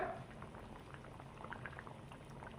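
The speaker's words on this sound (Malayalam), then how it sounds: "തിളച്ച മസാലയിലോട്ട് മീൻ്റെ കഷ്ണങ്ങളൊക്കെ ഇട്ടതിന് ശേഷം നന്നായി ഒന്ന് തിളച്ച് വന്നിട്ടുണ്ട്" Paral fish curry in a spicy chilli masala bubbles in a pot, a quiet, steady simmer of soft popping bubbles with no voices.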